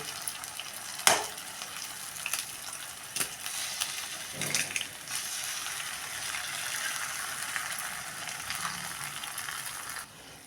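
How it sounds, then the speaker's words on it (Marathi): Four eggs cracked one by one into a frying pan of onions for egg bhurji: a few sharp cracks and wet splats over a steady, loud hiss of sizzling oil that continues throughout. "कशी फोडून अशी चारी अंडी ह्यामध्ये टाकून घेते"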